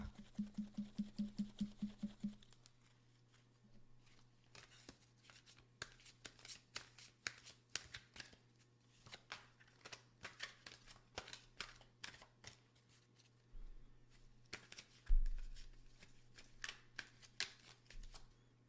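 Oracle cards being shuffled by hand, a rapid run of crisp riffling flicks at first, then a long series of irregular card slaps and soft shuffles over a faint steady hum, with no talking.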